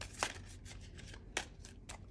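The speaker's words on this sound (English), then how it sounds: "I'm controlling this shuffle right now" Playing cards being shuffled by hand: two sharp riffling bursts about a second apart, with lighter card flicks in between, all faint and close against a quiet room.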